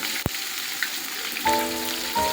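Close, continuous sizzling and crackling of 1 kg of onions frying in oil on a wood-fired stove for biryani, with a soft knock near the start and faint tonal hums later.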